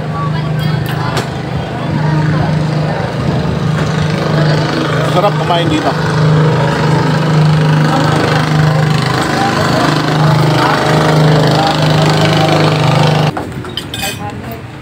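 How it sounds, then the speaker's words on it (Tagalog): Boat motors hum steadily on a river beside a riverside eatery in Hagonoy, Bulacan, a constant droning whine running under nearby talk and ambient chatter before cutting off near the end. "andar ng motor kasi may mga dumadaang motor,"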